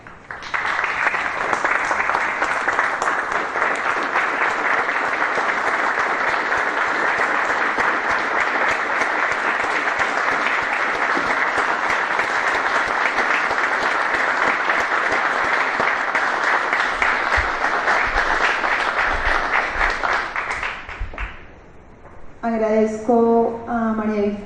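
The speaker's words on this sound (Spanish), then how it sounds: "solicito ponernos de pie y homenajear con un fuerte aplauso" A standing audience at a press and memory forum gives long, loud, sustained applause to honour two colleagues, a dense continuous roar of clapping lasting about twenty seconds before it fades and a voice begins speaking.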